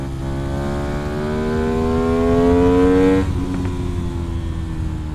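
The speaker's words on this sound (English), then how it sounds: "But once you open it up," Modified motorcycle with an aftermarket exhaust revving hard, a loud close rising engine tone that climbs steadily for about three seconds, then drops off sharply to a lower idle.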